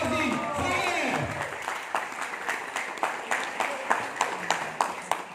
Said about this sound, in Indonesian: Sekali lagi berikan tepukan kepada Presiden dari Keling Indonesia, Bapak Muhammad Razi Saleh.